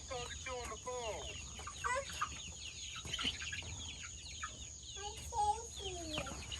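Backyard chickens cluck close by in quick, repeated bursts and rising calls, a busy overlapping chatter throughout, with faint human voices in the background.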